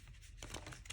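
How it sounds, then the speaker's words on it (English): Thick tarot cards being shuffled by hand, a short, quiet stretch of papery riffling and rustling that builds into a brief louder snap at the end. "As much as I love this deck, it's not easy to shuffle."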